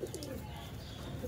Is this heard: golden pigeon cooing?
yes